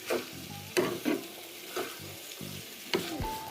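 Onions with salt being stirred and fried in a pan for a Jaffna-style dried anchovy fry: several scraping stir strokes over a steady light sizzle, close and moderately loud, with no talking.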